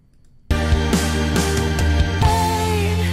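After a brief quiet moment, loud harmonic music bursts in suddenly with no fade, followed by jarring jumps between differing sections.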